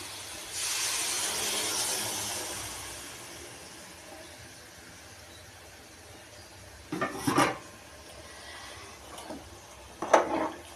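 Water poured into a hot pan of cooking mutton sets off a loud, steamy sizzle that swells and slowly fades over several seconds, followed by two sharp clatters of a utensil against the pan.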